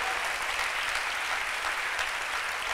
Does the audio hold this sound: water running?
no